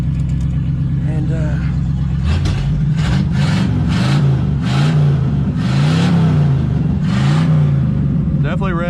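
A 1955 Oldsmobile engine idles, then revs up and down in several smooth, rising and falling blips, close and loud, with someone speaking over it.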